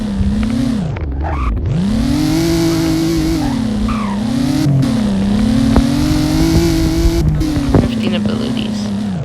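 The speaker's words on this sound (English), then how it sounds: "Drifting abilities." A 2000 TVR Cerbera Speed 12 drifts with its engine revving up and down in repeated swells and tyres squealing, close and loud while someone talks over it.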